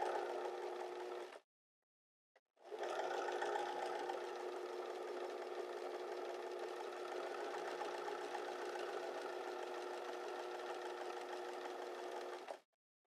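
Sewing machine stitching flat seams on a square neck top, a close, steady mechanical whir that runs briefly, pauses for about a second, then hums on evenly for roughly ten seconds before stopping.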